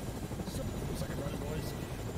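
A helicopter in the Fortnite video game, a steady whirring rotor drone with rhythmic blade thumps, moderately loud and continuous, with people talking over it.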